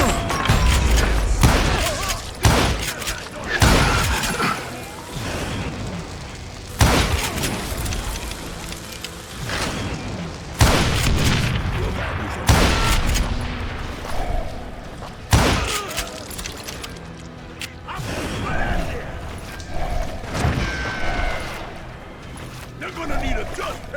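Repeated gunshots crack and boom at irregular intervals during a gunfight in the Western shooter game Call of Juarez Gunslinger, mixed with game effects and spoken voices.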